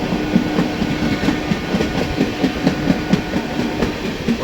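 The Aranyak Express overtaking the SMVT Bengaluru–Howrah Express, heard as a steady rolling rumble with rhythmic clickety-clack of wheels over rail joints, close and continuous throughout.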